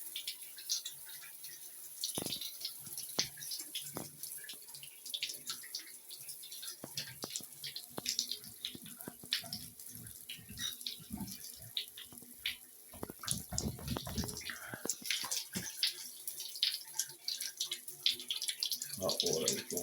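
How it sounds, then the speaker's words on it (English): Water streams from a newly installed rain shower head onto a bathroom surface, a soft continuous splashing heard nearby, with someone talking over it at times. "Hot water is going through there like it needs to."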